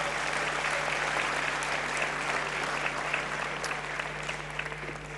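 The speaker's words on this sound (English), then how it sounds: "Let's give them another round of applause" An audience applauds at the launch of the Southern African regional e-commerce platform, producing a dense, steady wash of clapping that holds evenly throughout and is heard alone.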